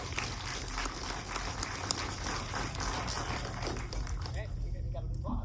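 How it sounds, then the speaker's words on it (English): Audience at a horror film Q&A with two actors applauding, a steady dense wash of clapping throughout that thins near the end, with voices mixed in. "Hello, you got the whole audience applauding"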